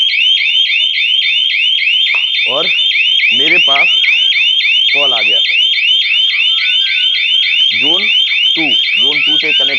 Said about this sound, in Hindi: ये देखिए यहाँ पे डिवाइस भी बीप कर रहा है